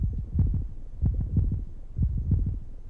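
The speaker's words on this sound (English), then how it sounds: "The sound of my heart." A heartbeat sounds in a visual novel game as low, deep thumps in paired beats that repeat about once a second, loud and alone over a soft hum.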